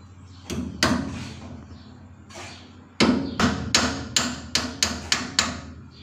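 Hammer striking a nail into the mortar joint of a concrete block wall, starting with a few scattered knocks and then a steady run of close, sharp blows that quicken into an even rhythm.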